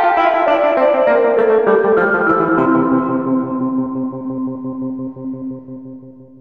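A stock Mellotron sample patch in M-Tron Pro plays sustained tape-like chords with a descending melodic line, loud and echoing, gradually thinning out and fading.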